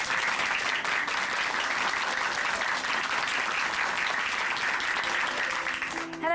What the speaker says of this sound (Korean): 오늘 귀한 간증 전해주신 윤성자 자매님께 다시 한번 박수 보내드릴게요